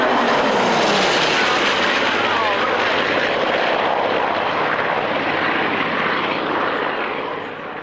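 A British piston-engine single-engine fighter passes at an airshow, its engine roar loud and sustained throughout, swelling and shifting in pitch as it flies by, then easing slightly at the end.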